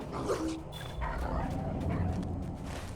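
Dogs in the online game LOTRO, Lord of the Rings Online, yipping and whimpering nearby amid dense combat and ambient noise for a few seconds.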